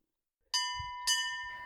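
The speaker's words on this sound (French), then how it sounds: "Quand la cloche sonne, cela signifie qu'un bon repas attend celui qui aura envie de se rendre dans la cuisine." A bell rings to call people to a meal in an ecovillage, struck twice in close succession with bright, ringing tones that linger and fade, nearby and clear against near silence.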